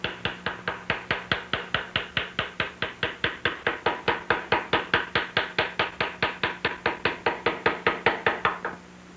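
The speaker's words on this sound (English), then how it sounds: "The majority of the engraving is done with the V-shaped engraver" Rapid, evenly spaced metallic taps of a V-shaped engraver cutting a narrow line into a rifle's metal, about four strikes per second, close and crisp, continuing steadily with no talk.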